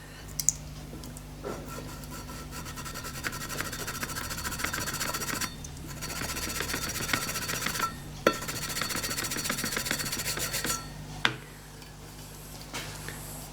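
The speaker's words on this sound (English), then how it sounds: "I've got some double O grit emery cloth and I've double side taped that to that little block that I made" Metal is hand-sanded with double-O grit emery cloth taped to a small block, giving a steady scratchy rubbing in repeated strokes with brief pauses between passes, close and with no talking.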